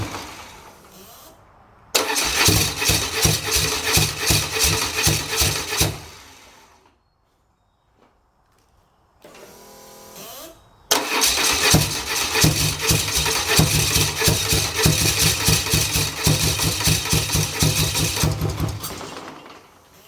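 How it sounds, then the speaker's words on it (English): A BMW engine fitted in a hovercraft cranks and fires on starter fluid in two loud bursts, each running roughly for a few seconds before dying away, with a silent gap between them. "You'll see that it'll fire up and burn off the starter fluid."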